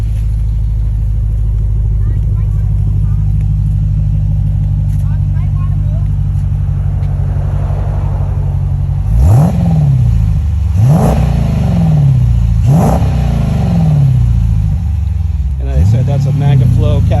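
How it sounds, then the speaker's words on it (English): A Jeep's Hemi V8 with a MagnaFlow catback exhaust and X pipe idles with a deep steady rumble, then revs sharply four times in quick succession, each blip rising and falling close by, with voices talking over it. "That's a MagnaFlow catback exhaust with the X pipe put in there, the MagnaFlow X pipe."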